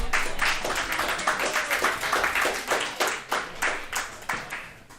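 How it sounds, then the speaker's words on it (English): Pub audience at a live hockey commentary stream claps in an uneven, fairly sparse patter that fades toward the end, moderately distant with no talk over it. "Give yourselves a round of applause."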